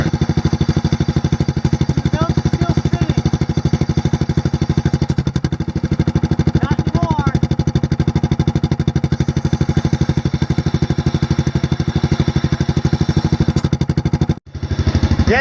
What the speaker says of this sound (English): now that I've got the tractor out here running, the belt is currently breaking in right now